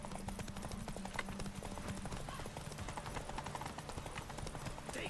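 Roach, the horse in The Witcher 3, gallops at full speed with fast, even hoofbeats under steady ambient noise and a faint whinny.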